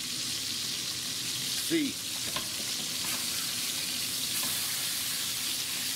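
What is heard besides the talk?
pork chops frying in a pan, being flipped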